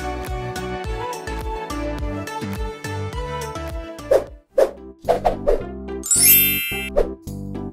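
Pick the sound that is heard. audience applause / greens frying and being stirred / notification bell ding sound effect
notification bell ding sound effect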